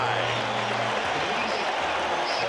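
A large baseball crowd at Shea Stadium roars and applauds during Game 6 of the 1986 World Series between the Red Sox and Mets, with a broadcaster's voice over a dense, distant wash of cheering.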